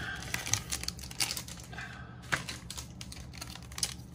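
Close crinkling and tearing of a Dragon Ball Super TCG Cross Spirits booster pack wrapper, a series of sharp papery rips and crackles with a short lull midway, heard alone.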